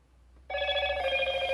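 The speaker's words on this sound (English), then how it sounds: "My phone's going off." A mobile phone starts ringing abruptly after a short quiet moment, with a loud, steady electronic ring tone that continues to the end.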